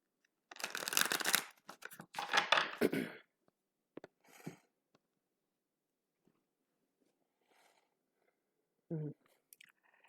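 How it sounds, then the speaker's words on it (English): Brisk riffle shuffles of playing cards, two long bursts followed by a few shorter snaps, close and clear with no talking. "I'll do one more quick shuffle."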